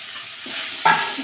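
Fried fish pieces stir-fried in a spice masala in a pan, a soft sizzle with scraping stirring strokes, a louder scrape near the end, close and without talk.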